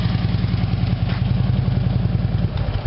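A Harley motorcycle engine idles steadily at close range before shutdown, a continuous low, throbbing rumble with even clatter and no pauses.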